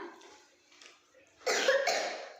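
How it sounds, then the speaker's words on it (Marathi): A sudden burst of coughing, a couple of harsh coughs close by after a quieter stretch of faint background talk. "खोकला येत आहे?"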